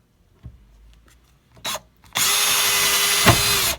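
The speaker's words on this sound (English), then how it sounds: "So I'm drilling that hole and that hole" A few faint knocks and a short whir, then a power drill runs loudly and steadily drilling into a wall, its pitch dipping briefly under load before continuing.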